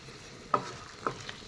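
Chicken curry gravy made without onion, ginger or garlic simmers in a pan after water is added. A quiet low bubbling carries two or three soft, distinct pops, with no talking.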